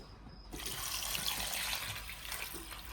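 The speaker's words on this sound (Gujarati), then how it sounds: "હવે આપણે નાખી દઈશું પાણી" Water poured from a vessel into a pot of crab curry, a steady close splashing and gushing that starts abruptly and runs without a break, with no talking.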